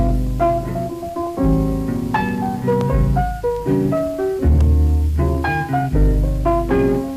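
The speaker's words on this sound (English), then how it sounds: "So that was the piano sample on the vinyl record" Lo-fi piano sample played from a vinyl record: chords and melody notes over a deep low end, steady and full, with a soft hiss beneath.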